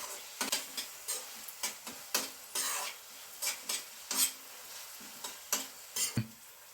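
Onions and tomatoes fry in a pan for egg rice, a soft steady sizzle broken by a quick run of sharp spoon-scraping stirs against the metal, close and fairly quiet with no voices.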